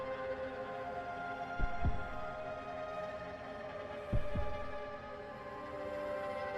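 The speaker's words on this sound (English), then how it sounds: "It'd be nice if the heartbeat kind of led you in the correct direction, like it got a tiny bit louder or something." A heartbeat in Hollow Knight: Silksong thumps as two double beats spaced a few seconds apart over a low steady hum, moderately loud and with no voices.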